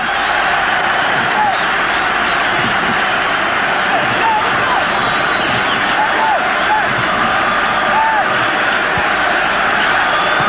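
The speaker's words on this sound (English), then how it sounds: "the crowd roars Zambia on, fighting to get this equalizer" Football crowd at a 1994 Africa Cup of Nations match between Nigeria and Zambia roaring Zambia on, a loud continuous wall of massed voices and whistles that never lets up, with commentary running over it.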